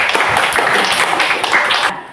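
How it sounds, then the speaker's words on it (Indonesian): Applause from a classroom of students for a classmate, a brief burst of dense clapping that stays steady and then cuts off abruptly. "tepuk tangan untuk Dayat"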